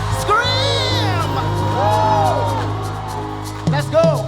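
A worship-night crowd screams and cheers loudly at close range, a dense sustained roar of whoops and shrieks over a steady low background that swells again near the end.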